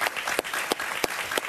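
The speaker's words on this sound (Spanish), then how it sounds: "Un aplauso para él, por favor." Studio audience applause on a Spanish-language talk show, a brief burst of steady clapping from a crowd with a few sharper individual claps standing out.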